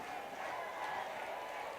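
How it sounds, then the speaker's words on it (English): A cricket crowd at a West Indies vs Bangladesh T20 match roars and claps in a broad, distant wash of cheering that holds steady throughout. "So the crowd now is cheering on the West Indies, or is it Bangladesh?"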